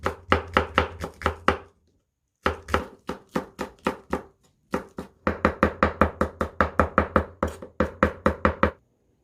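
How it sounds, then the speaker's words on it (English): Knife mincing green onion on a cutting board: rapid, even chopping taps in quick bursts, with a short pause after the first burst and another brief gap, close and clear with no talking. "we're gonna mince this green onion"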